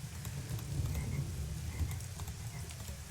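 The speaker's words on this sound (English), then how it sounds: "I hear a frog." A frog croaks in a low, continuous chorus against a soft outdoor night ambience in the Nancy Drew: Legend of the Crystal Skull video game, with faint scattered ticks above it. No one speaks.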